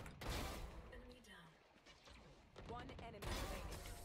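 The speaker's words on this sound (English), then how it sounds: "These guys just shot at you with a sheriff and a stinger" Sheriff and Stinger gunfire in Valorant on the Icebox map, a few sharp shots spread across the moment, with a voice talking throughout.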